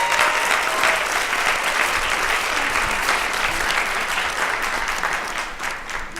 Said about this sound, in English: please give a round of applause to Miss Lily Gupta